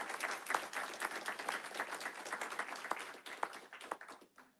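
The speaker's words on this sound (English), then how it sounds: "please give them a round of applause" School board meeting audience giving a round of applause for teachers of the year, a dense patter of clapping that swells and then tapers off near the end.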